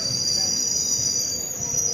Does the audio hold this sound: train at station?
yes